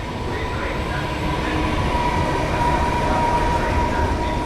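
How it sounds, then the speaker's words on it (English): A double-decker train passes at a station, with a steady loud rumble of rolling rail cars and faint wheel hum throughout, close and continuous. "Oh wow, that train's cool over there. That has a second floor."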